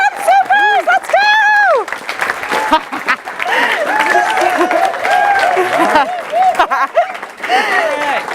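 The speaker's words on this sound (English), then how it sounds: "Give a big round of applause for the Sim" A crowd at a simulation competition event applauding and cheering, clapping mixed with whoops and excited voices, while a loud voice talks over the noise throughout.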